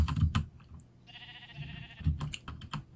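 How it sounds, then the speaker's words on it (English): Keys clatter on a computer keyboard in quick irregular bursts, close and moderately loud, with a brief steady tone from the Minecraft modpack game in the middle. "I'm typing MOE into the search bar."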